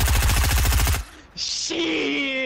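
Gunfire in the video game Fortnite, a loud rapid burst of repeated shots for about a second, followed by quieter game effects and tonal sounds.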